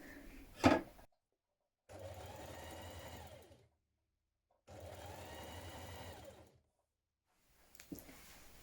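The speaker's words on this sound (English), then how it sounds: "Now overlock or edge finish the bottom of your blouse and turn it up so that you can hem it" A sewing machine overlocks and hems the bottom edge of a blouse, running in two steady bursts of stitching separated by silence, with a sharp handling knock at the start and a faint rustle at the end.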